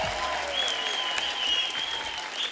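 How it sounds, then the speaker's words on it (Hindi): Studio audience on a Hindi TV comedy talk show applauds loudly to welcome a film actor on stage, a continuous dense roar of clapping with a musical tone sounding over it. "मैं आप सबकी जोरदार तालियों के बीच इनवाइट करना चाहूंगा मिस्टर मनोज बाजपेयी साहब"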